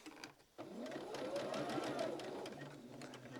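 A sewing machine runs steadily through the final quilt seam of a row on a biscotti-pattern quilt, starting after a brief pause and buzzing close up for about three seconds.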